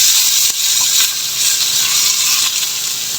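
Garlic and then onion sautéing in a pan for a low-carb tuna and mushroom fettuccine, giving a steady close bright sizzle with faint stirring clicks and no talk.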